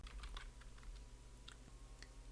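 Quick, light taps on a computer keyboard as a command is typed, a short burst of close keystrokes at a quiet level.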